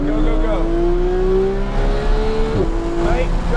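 A Porsche 933 race car at a track driving experience revs hard, its engine note climbing steadily through the gears with a shift partway through, loud and close from inside the cabin.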